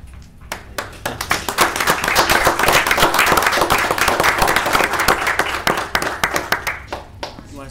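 A school board regular session audience applauds students, a dense burst of clapping building quickly, holding steady for several seconds, then thinning into scattered claps.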